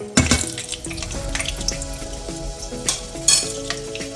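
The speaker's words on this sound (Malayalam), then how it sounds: "എണ്ണ ചൂടായിട്ടുണ്ട് അതിലേക്ക് ഒരു ടീസ്പൂൺ ഉലുവ ഇട്ട് കൊടുക്കാം" Fenugreek seeds dropped into hot sesame oil for a prawn pickle, giving a steady crackling sizzle with sharp spattering pops near the start and again toward the end.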